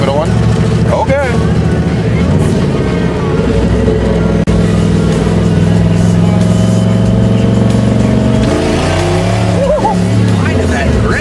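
Ford Fox Body car in snow attempting a rolling burnout, its engine roaring loud and steady with rising revs and a surge near the end, while people talk over it.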